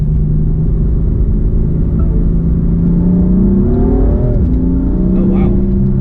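BMW M4 F82 with a Stage 1 tune accelerating, its engine note rising in pitch through a steady loud rumble from inside the car, with a brief shift and renewed climb near the end.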